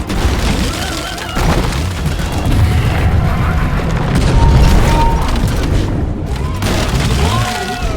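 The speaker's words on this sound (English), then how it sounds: "Cryo grenade!" A cryo grenade in Deep Rock Galactic goes off in a loud, booming burst amid a dense, continuous din of game noise, with a voice briefly heard.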